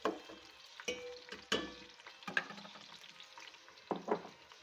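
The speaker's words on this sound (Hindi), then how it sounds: "हम प्याज को ब्राउन नहीं करेंगे, बस इसको हम हल्का सा इसमें पकाएंगे" Onions cooking lightly in a pan for chana pulao, a faint soft sizzle with occasional stirring scrapes and knocks, quiet and close, with no voices.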